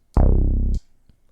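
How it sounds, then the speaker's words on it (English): A single 808-style synth bass note in a Detroit-style beat production, a loud sub-heavy boom sustaining just over half a second before cutting off sharply, alone with no voices. "we're gonna use a bass that sounds like this"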